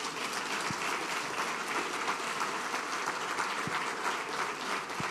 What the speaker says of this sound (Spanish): Denle un aplauso al Señor los que han creído en Él.